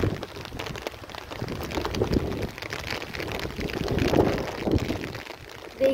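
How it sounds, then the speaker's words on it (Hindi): Heavy rain falls on a terrace, a steady dense hiss of drops and splashing that runs throughout at moderate loudness, with no talk. "बहुत ज़्यादा बारिश हो रही है"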